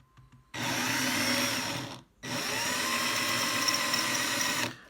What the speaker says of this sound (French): faire tourner la perceuse le plus lentement possible au début